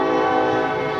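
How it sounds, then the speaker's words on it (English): A passing train sounds a sustained, loud horn with a rich harmonic tone that holds steady for the whole moment, heard from inside a council meeting room. "let the train go by"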